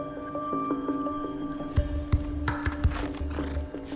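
Horses in Xinjiang make clip-clopping hoof beats and a neigh over a steady background hum, with several loud thumping steps near the middle.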